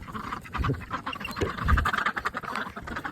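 Ducks quack at feeding time on a homestead, a busy overlapping chorus of close, rasping quacks, with chickens and geese also gathered nearby.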